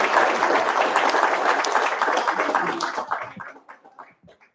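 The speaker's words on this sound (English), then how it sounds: "Scotty needs to get a round of applause." Audience applause in a town hall meeting for wildfire victims, a dense burst of many hands clapping that thins out and fades to scattered claps near the end.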